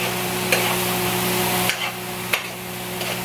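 Tomato and onion for cauliflower rice sizzle quietly in a pot, a steady low fry with a few stirring clicks and scrapes, over a faint background hum.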